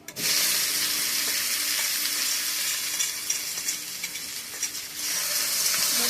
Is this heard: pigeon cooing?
no